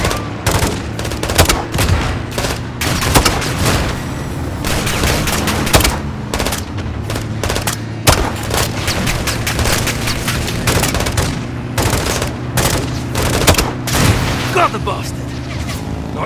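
Sustained light machine gun fire rattles in bursts in a Call of Duty Modern Warfare 2 firefight, loud and close, with booms and other gunfire mixed in and voices speaking over the shooting.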